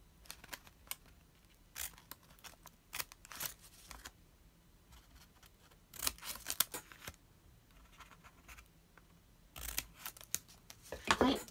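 Several quick snips of scissors cutting origami paper come in short bursts with pauses between, close and fairly quiet, with light paper rustling.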